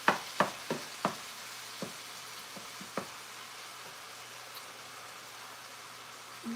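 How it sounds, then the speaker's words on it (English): Meat browns in a hot pan for spaghetti carbonara, sizzling steadily and close by, with a few sharp scrapes and clacks early on as it is broken up. No voices are heard. "just browning up this meat to get it nice and seared"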